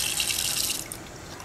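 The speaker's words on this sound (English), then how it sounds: "Why am I just staring at a faucet?" A faucet runs with a steady, close water hiss, loud and continuous throughout before easing slightly toward the end.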